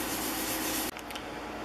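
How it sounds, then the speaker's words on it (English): Swirl sanding an iron cap with 3000 grit paper, a steady close abrasive rubbing that cuts off abruptly midway, followed by a few softer scuffing strokes. "that technique would be to do the swirl sanding with 3000 grit paper"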